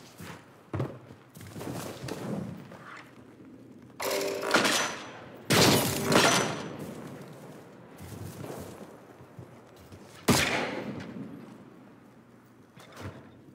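Sidearm pistol fire in a shooter video game, several close, loud bursts of rapid shots with sharp onsets, separated by short gaps and a lingering background rumble.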